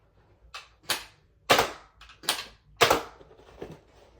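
Nerf Elite 2.0 Trio foam dart blaster fired close by: a handful of sharp snapping pops with short mechanical clacks between them, spaced roughly half a second apart, with no talk.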